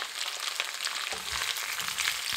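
Onions, peppers and mushrooms sizzle steadily in a hot pan for Malaysian-style stir-fried noodles, a continuous close frying hiss with a few soft stirring knocks and no talk.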